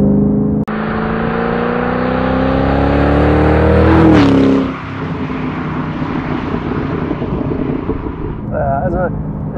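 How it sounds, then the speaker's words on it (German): A 2005 Ford GT with a Heffner supercharger and over 800 horsepower roars loudly close by, engine pitch climbing under hard acceleration, then dropping to a rough rumble as a voice briefly speaks over it. "das Auto macht natürlich einen Höllensound, einen Riesenlärm"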